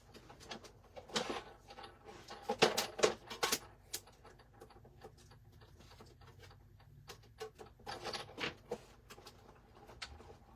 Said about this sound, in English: I'm going to take this to my die cutter and just cut it out really quick.